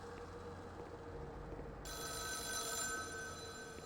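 A telephone starts ringing partway through, a bright, sustained electronic ring in the video game The Town of Light, loud and steady over a low ambient background with no talking.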